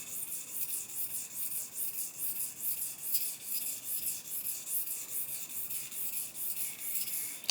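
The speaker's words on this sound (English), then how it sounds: "I'm gonna be lapping some stones" Shapton Pro 1.5k sharpening stone being lapped with stick powder produces a soft, gritty rasp in even back-and-forth strokes, about two per second, close and quiet throughout.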